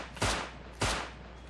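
Two loud gunshots in the survival game Rust, about half a second apart, each sharp crack trailing off into a brief echo.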